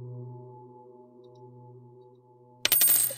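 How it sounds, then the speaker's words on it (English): In the horror game Bad Dream: Bridge, a low droning ambient hum plays steadily, then a sudden bright metallic coin pickup chime cuts in near the end, loud and short. "Coin."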